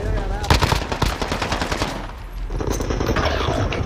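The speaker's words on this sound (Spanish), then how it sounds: "Pero si estoy disparando primero." Rapid machine gun fire in the video game Call of Duty Modern Warfare rattles out in quick loud bursts, then settles into a steadier, denser stream of shots.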